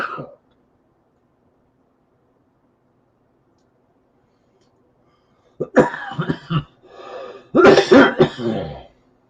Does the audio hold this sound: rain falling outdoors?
no